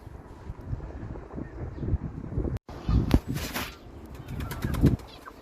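Pigeons kept outdoors at a loft give off fluttering wingbeats and soft scuffling over steady wind noise, with a couple of sharper bursts of activity partway through.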